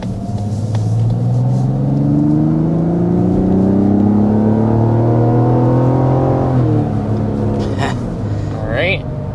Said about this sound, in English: we're going to go ahead and start with a hard acceleration.